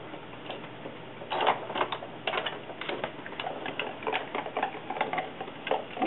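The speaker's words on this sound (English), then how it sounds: "Using my Cuttlebug, I'm going to use the Swiss Dots Cuttlebug embossing folder." A Cuttlebug die-cutting machine cranks a card through a Swiss Dots embossing folder, giving a rapid series of soft clicks and ratcheting ticks in uneven bursts, close and fairly quiet.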